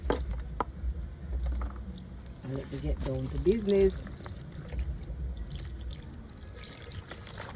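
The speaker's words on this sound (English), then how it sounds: "Put some more water in." Water is poured into a cooking pot for a one-pot Jamaican steamed fish with crackers and vegetables, a close, gurgling splash under talking and kitchen noise.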